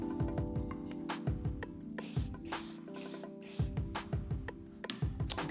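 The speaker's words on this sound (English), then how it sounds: "the activator has been sprayed" Several short hissing sprays of CA glue activator from an aerosol can come in quick bursts over a faint steady background hum in a woodworking shop.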